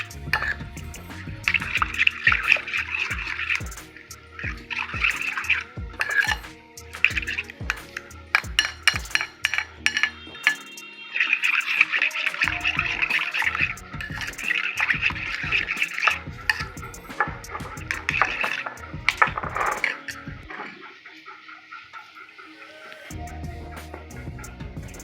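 Egg batter for an egg and potato curry being mixed in a bowl: quick, repeated clinks and scrapes of a utensil against the bowl, running steadily and then briefly pausing before resuming.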